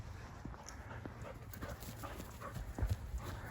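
A husky romps through thin snow, with soft quick footfalls and light panting close by, quiet and alone.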